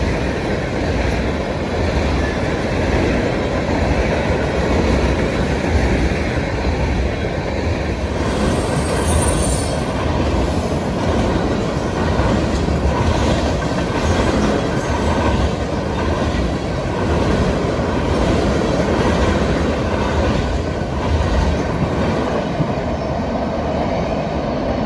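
A heavy freight train hauled by diesel locomotives rumbles past close by for the whole stretch, a steady roar of engines and rolling wagons with wheel squeal and rhythmic clatter.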